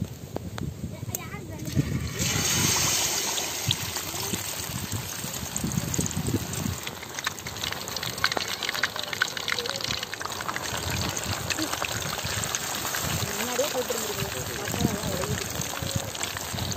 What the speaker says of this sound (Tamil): இப்ப நம்ம வந்து எண்ணெயை சேர்த்துக்கலாம்.